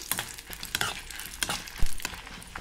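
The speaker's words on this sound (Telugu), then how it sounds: "ఇదిగోండి నూనె వేసుకుని కొద్దిగా పల్లి పెనుమిరపకాయలు వేసుకుని ఇదిగోండి వేసుకోవాలి" Peanuts and chillies fry in oil in a pan, giving a steady close sizzle punctuated by sharp scrapes and clicks of stirring at irregular intervals, with no talk.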